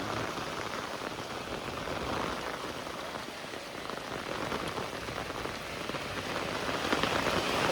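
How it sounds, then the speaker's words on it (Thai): Heavy rain with big drops falls steadily on surfaces, a dense, even patter that swells slightly toward the end, with no voices. "ตายแล้วฝนตกจ้าเย่แห้งมาอีกแล้วเม็ดใหญ่พร้อม"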